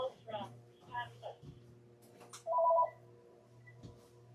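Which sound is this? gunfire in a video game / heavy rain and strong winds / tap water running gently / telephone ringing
telephone ringing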